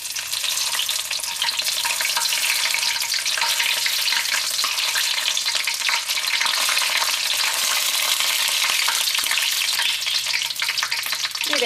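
Dried red chillies fry in hot oil with curry leaves for a fish pickle, a loud, dense, unbroken sizzle with occasional stirring throughout.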